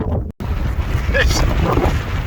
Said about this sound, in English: This wind is getting so much worse.